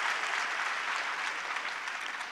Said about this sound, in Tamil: நம்ம டாக்டருக்கு ஒரு அரங்கம் நிறைந்த கைத்தட்டலை நம்ம கொடுக்கலாம்